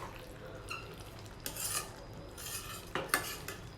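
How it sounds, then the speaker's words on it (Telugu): A utensil stirs gongura chicken curry in a pan, with scraping and clinks of metal on the cookware in a few irregular bursts, close and soft over a low background hum. "గోంగూర వేసిన తర్వాత ఇలా మధ్య మధ్యలో మిక్స్ చేసుకుంటూ కుక్ చేసుకోవాలండి"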